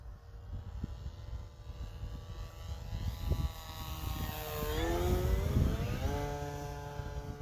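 An FMS Beaver 2000mm foam RC airplane drones overhead, its electric motor whine rising and falling in pitch as it passes, growing louder midway against a low outdoor rumble, with no voices.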